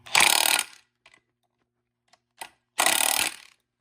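A ratchet wrench tightening transmission mount bolts on a 2008-2013 second-generation Cadillac CTS 4, with two loud close bursts of rapid clicking separated by a quiet stretch with a few faint clicks, no speech.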